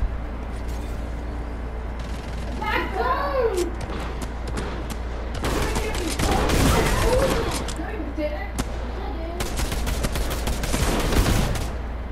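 Bursts of rapid gunfire crackle through a Fortnite Zero Build game soundscape near a gas station, with several volleys and distant booms under ongoing talk.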